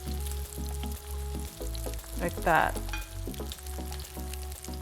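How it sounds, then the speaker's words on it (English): Korean seafood pancake batter poured into an oiled pan, sizzling and frying steadily close up, with a brief louder burst as the batter hits the hot oil and a few words spoken over it. "we're gonna take the rest of our batter mix and pour"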